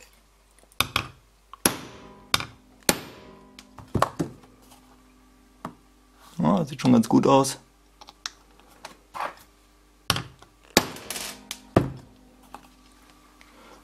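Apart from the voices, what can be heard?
hammering a hole punch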